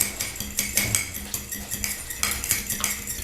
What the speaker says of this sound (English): Give it a quick whisk.